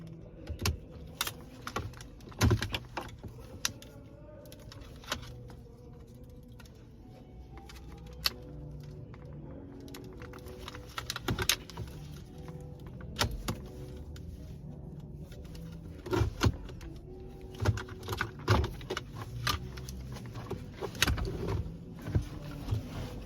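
Small plastic electrical connectors are unclipped from the parking brake switch module of a 2018-2019 Volkswagen Atlas, a steady series of faint close clicks, taps and plastic rattles scattered irregularly, with no talking.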